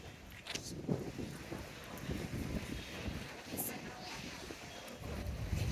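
Strong wind buffeting the microphone outdoors on a walk toward an airport at night, a continuous rough rumble with footsteps and a voice talking underneath.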